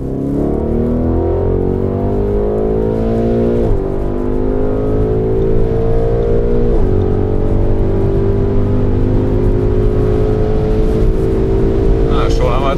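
A 1001 PS MTM-tuned Audi RSQ8 SUV cruises at around 250 km/h. Its engine hums loud and steady with a rising pitch under constant wind and road roar.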